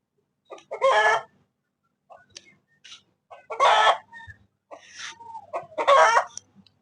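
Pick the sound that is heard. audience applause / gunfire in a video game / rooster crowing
rooster crowing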